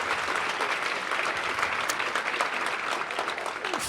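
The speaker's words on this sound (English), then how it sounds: "So how about a big round of applause?" Applause from a corporate speaker-series audience at LinkedIn welcoming a guest, a steady crowd of hands clapping at moderate volume, somewhat distant, with no talking over it.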